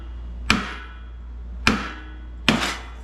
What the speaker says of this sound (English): Take a hammer with this bolt back in there